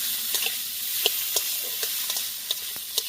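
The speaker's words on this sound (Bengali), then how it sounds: "এবার টমেটোকেও ভালো করে আমি যাতে গলে যায় সেরকম করে নেড়ে নেব।" Chopped tomatoes frying with ginger and green chili in a pan, a soft continuous sizzle broken by repeated light spatula scrapes and taps as the mixture is stirred, with no talking.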